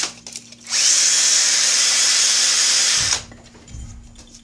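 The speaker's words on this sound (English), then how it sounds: "Take my roll of 150 grit sandpaper, take a little bit off, and we'll just sand this down." A drill spins a wooden dowel while it is sanded with 150 grit sandpaper, a single loud, close, high whirring and hissing burst lasting about two seconds, followed by a few soft handling knocks.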